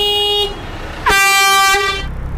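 A car horn blares in two loud, steady honks out on the road, each long and sustained with a short break between them and no voices.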